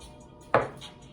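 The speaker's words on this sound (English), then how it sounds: "You're just always cutting it in half." A single sharp chop of a knife through an ingredient for ceviche onto a cutting board, a brief close thud with a short ringing tail in a quiet kitchen.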